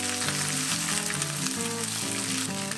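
Spinach sautéing with a pinch of salt in an oiled pan makes a dense, steady crackling sizzle, close and constant, with music playing in the background.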